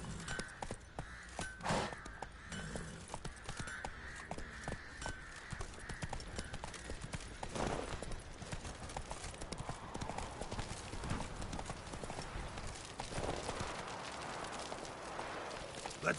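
Horse hooves clip-clop at a steady gallop in The Witcher 3: Wild Hunt, the rhythmic beat running throughout over game ambience with a brief whinny, while a person talks intermittently on top.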